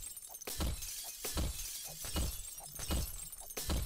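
Glass shatters repeatedly in the survival video game 7 Days to Die, a series of crashing breaks at a fairly even rhythm over a busy background, moderately loud with no talking.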